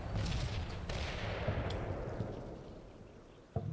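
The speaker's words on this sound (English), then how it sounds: "We have artillery incoming." Dense rumbling artillery barrage in the Cold War wargame Combat Mission, a continuous wash of distant booms and blasts, loud at first and slowly fading, with a sharp nearer impact near the end.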